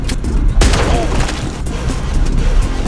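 A pump shotgun fires in a shooting video game, one heavy booming blast followed by a rumbling, echoing decay and smaller thuds. A voice may talk faintly underneath.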